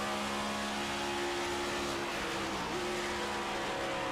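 A NASCAR stock car in the iRacing game at Charlotte roars at full throttle, its steady engine drone dipping briefly as it downshifts, loud and continuous with a faint tire squeal.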